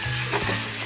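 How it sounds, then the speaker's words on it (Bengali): Noodles with fried eggs and fried potatoes being stirred together in a pan, a brief close scrape of the spatula over a low steady sizzle, with no voices. "এবার মিশিয়ে নিই।"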